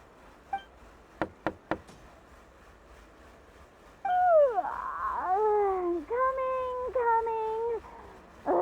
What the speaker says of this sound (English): Ugh, seriously, who's knocking before afternoon tea?